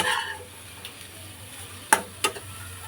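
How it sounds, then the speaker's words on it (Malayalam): Green gram and onions stirred into leaves frying in sesame oil, a soft steady sizzle with a few sharp clinks of a spoon against the pan, quiet and close. "ഇനി ഇതിൽ ചെറുപയറും അതിൻ്റെ തോരനുള്ള സാധനങ്ങളുമാണ് ഇടുന്നത്."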